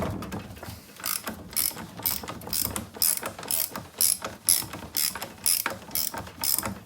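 Ratchet loosening bolts on a Citroën 2CV engine during a full teardown: repeated bursts of sharp ratcheting clicks in an uneven back-and-forth rhythm, close up, with brief pauses between strokes.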